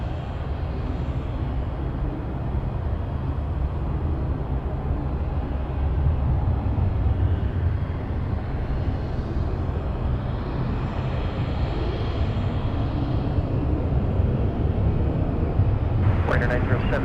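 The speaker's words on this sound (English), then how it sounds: "I think I'm hearing an L100." A Lockheed L-100 at Anchorage airport runs its engines in a continuous low, droning roar that swells slightly midway, with occasional speech over it.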